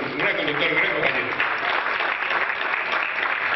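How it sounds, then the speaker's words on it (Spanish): Steady, dense applause from a studio audience on a television programme, sustained and fairly loud throughout with voices mixed into the clapping. "No debería hacer un aplauso para un gran conductor"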